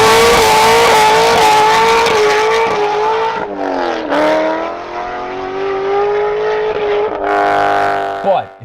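A Corvette C6 Z06 with traction control switched off does a burnout: a loud, sustained engine roar with rising and falling revs and rough tire noise underneath, close by and continuous for several seconds.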